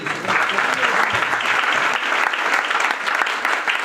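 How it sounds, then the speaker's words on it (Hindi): Steady, dense applause from a crowd, loud and continuous throughout without pause. "इनके लिए भी तालियां।"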